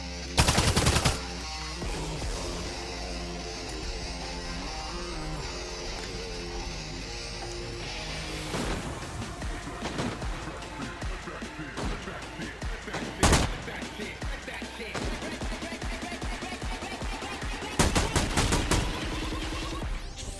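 FAL rifle fire in the shooter game Arena Breakout: sharp bursts of shots near the start, around the middle and near the end, over a steady bed of game ambience and rattling mechanical noise.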